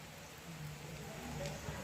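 Rain falls in a soft, even patter, quiet and continuous with no voices over it.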